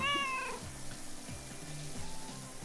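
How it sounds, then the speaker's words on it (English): Cats meow in Powerwash Simulator 2 as a water sprayer hits them: a sharp, loud meow at the start, then repeated shorter cries over a steady wash of spraying water. "You got cats that don't want to get sprayed by water."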